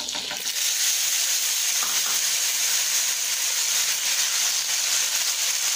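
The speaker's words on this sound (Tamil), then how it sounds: "தக்காளி போட்டு நல்லா ஆயிலில் வதக்கணும்" Tomatoes fry in sesame oil for a garlic tomato pickle with a loud, close, steady hiss that begins in a burst and holds unbroken, with no voices over it.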